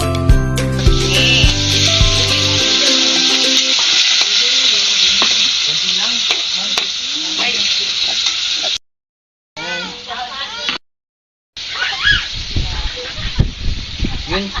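Garlic and onion sautéing in a pan, with a loud, steady sizzle and stirring scrapes, brief musical notes at the start, and voices talking over it in the later part.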